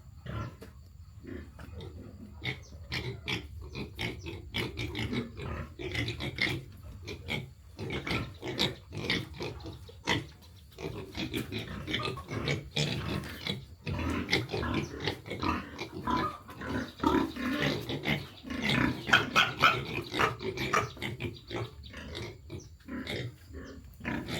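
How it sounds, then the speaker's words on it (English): A group of 2-month-old piglets in a pen on a mountain farm in northern Vietnam grunt and squeal continuously, a busy, close chorus of overlapping oinks and snorts with no talking. "Right next door is a group of 2-month-old piglets."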